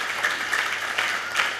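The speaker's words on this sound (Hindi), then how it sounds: "जोरदार तालियां होनी चाहिए" A short burst of steady crowd clapping at a Safe Shop motivational meeting, recognising a high achiever, even and moderately loud.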